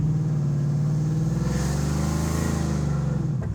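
A modified, boosted Cobra car with 410 gears revs at about quarter throttle, a loud steady engine drone rising slightly and then dropping off, close and alone.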